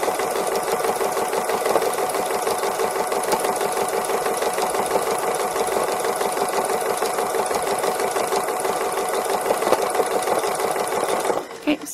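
A domestic sewing machine running steadily for free motion embroidery, a fast even whirring rattle that holds nearly the whole time and stops just at the end.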